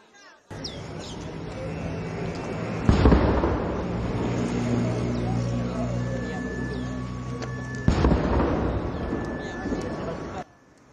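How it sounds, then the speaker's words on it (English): The 41st Royal Artillery Regiment fires a ceremonial cannon salute at a royal wedding. Two heavy booms land several seconds apart and are heard under continuous narration and crowd ambience. "followed by an 11 cannon salute by the 41st Royal Artillery Regiment ceremonial"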